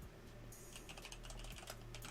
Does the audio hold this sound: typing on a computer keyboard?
yes